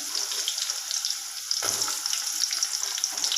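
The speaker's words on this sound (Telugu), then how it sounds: "ఇవంతా ఆయిల్లో బాగా ఫ్రై అవ్వాలి" Bitter gourd pieces frying in hot oil, a close, steady crackling sizzle that briefly swells and surges midway, with no voices.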